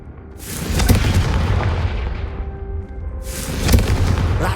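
A Confringo fire spell explosion in Hogwarts Legacy, two loud booming blasts with a sweeping whoosh and rumbling tail between them, close and alone.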